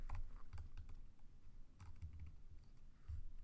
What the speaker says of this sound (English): My typing sometimes gets really rough.